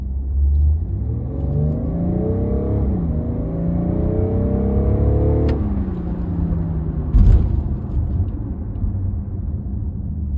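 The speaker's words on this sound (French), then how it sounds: "je vais tester l'accélération avec un freinage un peu plus brusque à la fin pour tester le freinage aussi" BMW X4 M40d xDrive with a 3.0 diesel of 326 hp accelerates hard, its engine note climbing through rising gear pulls under a steady road rumble, then the revs fall away as it brakes sharply, heard from inside the cabin.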